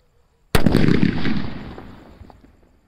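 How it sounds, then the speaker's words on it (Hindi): A single loud, close blast from a medium-size VIP firecracker erupts out of near silence, then rumbles and crackles as it fades over about two seconds. "क्या शानदार और जोरदार धमाका हुआ"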